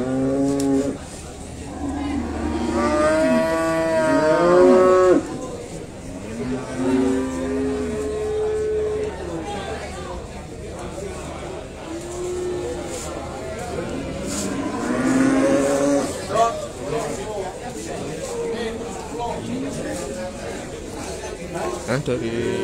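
Cattle mooing at a livestock market during a foot-and-mouth disease inspection, several long drawn-out lows at the start and again midway, heard under someone talking and background crowd noise.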